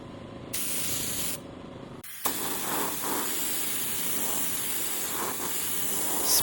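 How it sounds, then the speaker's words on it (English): A spray gun applies blue metallic paint to a Yozma motorcycle in short bursts of close, loud hissing, with two brief pauses early on, then one long continuous spray. "Spraying the blue metallic."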